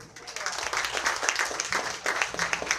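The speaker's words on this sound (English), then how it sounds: "Please welcome, with a warm round of applause" Audience applause at a Junior NBA tip-off press conference, a brisk burst of many hands clapping in an indoor room, fairly close and sustained throughout.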